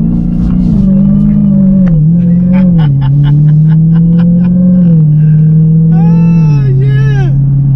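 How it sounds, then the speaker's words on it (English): A Dodge Hellcat's engine revs hard under acceleration, a loud, deep rumble rising and falling in pitch over several seconds, with short whining bursts near the end and no talking. "All right, we're gonna gas it a little bit."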